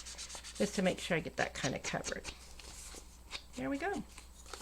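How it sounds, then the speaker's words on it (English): Ink is rubbed briskly onto a journal cover, the dry scrubbing strokes running under a person talking nearby. "I'm going to rub real good just to make sure I get that kind of covered"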